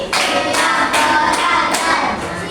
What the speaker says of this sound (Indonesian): Tepuk 1 kali, tepuk 2 kali, tepuk 3 kali, tepuk 4 kali, tepuk 5 kali